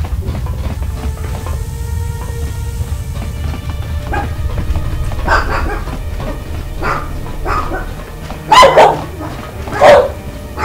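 Dogs bark excitedly in Knights of the Old Republic 2, several sharp barks and yips breaking out near the end over a low game ambience, fairly close and loud.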